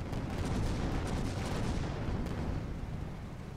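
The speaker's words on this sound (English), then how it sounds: "The cannonade shots from the Queen Anne Zeal." Ship cannons firing in a naval video game: a dense, continuous rumble of booming cannonade with blasts overlapping into a steady roar, moderately loud and without speech.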